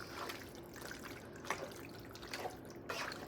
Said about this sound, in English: Add a little bit of this starch water.